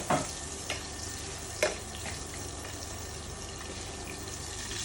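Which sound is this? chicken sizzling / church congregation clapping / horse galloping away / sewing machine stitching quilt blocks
chicken sizzling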